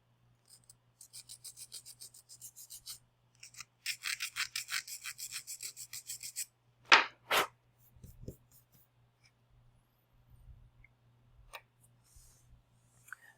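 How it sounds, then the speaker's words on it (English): A metal file rasps along the rough breakaway edges of a panelized circuit board, quick rhythmic strokes in two close bursts, then a couple of sharp knocks and faint handling sounds over a low steady hum. "I have a file, just to file down those rough connection points that came between the panelized board"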